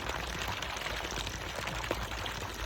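Water poured over a person bathing outdoors with cold water drawn from the ground, a steady close splashing wash with no voices.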